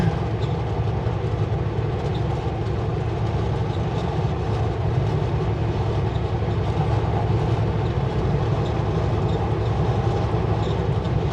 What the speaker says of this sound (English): Hey, it's a train.